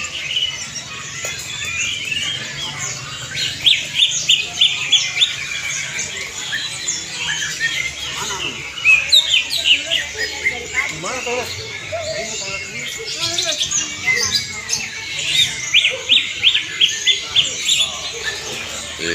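Many caged birds chirp and trill in a busy open-air bird market in Solo, a dense layer of high tweets with bursts of rapid calls rising and falling over a low murmur of voices and market noise.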